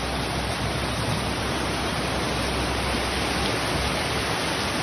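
Heavy rain pours down in the centre of Mossoró, Rio Grande do Norte, a constant loud hiss of water that stays unbroken, with no voices over it.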